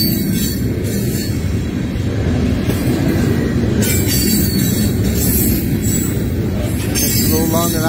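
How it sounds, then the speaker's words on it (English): A long freight train rolls past close by along the Allegheny River, a loud continuous rumble of wagons with squealing wheels and rhythmic clatter throughout. "As soon as the train goes by, I'll turn the camera around."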